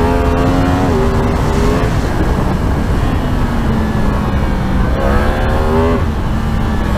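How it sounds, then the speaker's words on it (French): A 2022 Yamaha MT-10 motorcycle engine revs loud and close while riding. Its rising and falling pitch climbs through the gears in two main surges over a constant roar of wind. "Écoute-moi ce moteur,"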